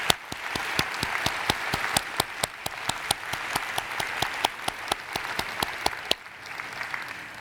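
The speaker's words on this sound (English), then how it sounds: "Please give a round of applause to these individuals for their accomplishments." Sustained applause from the audience at the ASHA 2017 Awards Ceremony, a dense wash of clapping with sharp, rhythmic hand claps cutting through, before it thins out near the end.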